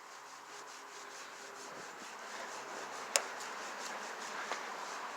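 A rag rubbing toothpaste over a foggy car headlight in up-and-down and circular strokes, a soft continuous scrubbing hiss close to the microphone with a faint click partway through.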